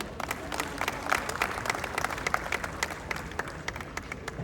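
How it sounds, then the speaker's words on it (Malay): An audience gives a round of applause for the singers after their performance at an event, fairly faint scattered clapping that stays even throughout. "Sekali lagi kita berikan satu tepukan gemuruh."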